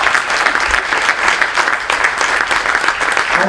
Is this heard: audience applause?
yes